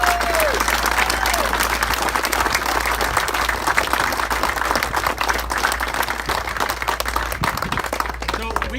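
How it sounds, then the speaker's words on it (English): Sustained applause from an audience honoring veterans at an event for a visiting B-25 Mitchell bomber, steady and dense clapping throughout with a few voices mixed in. "So I want to give you a big round of applause for all our veterans."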